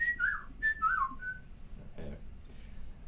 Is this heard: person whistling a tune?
yes